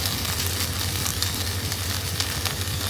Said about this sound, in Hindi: भिंडी को तलने में टाइम लग रहा था